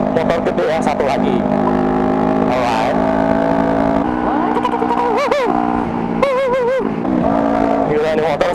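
A custom Kawasaki Ninja 250R streetfighter motorcycle engine runs loud and close, holding a steady buzzing drone with repeated throttle blips and rising revs.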